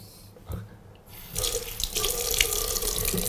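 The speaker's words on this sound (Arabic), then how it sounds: "ثم أخذ ماء أستنشق ثم أستنشق يعني أخذ الماء في فتحة الأنف" Tap water runs into a sink while the nose is rinsed during ablution (wudu), starting after a quiet moment and continuing as a steady close splash with light dripping.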